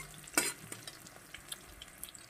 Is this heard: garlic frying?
yes